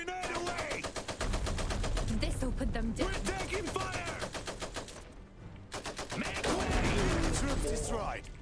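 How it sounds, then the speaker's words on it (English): Rapid machine-gun fire rattles almost continuously through a battle in the mech strategy game Iron Harvest, with short breaks, while voices call out over the clatter. "We're taking fire!"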